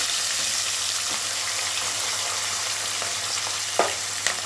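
Onion pieces fry in a pan for a sweet potato curry, giving a steady, dense sizzle with a few louder scraping stirs near the end.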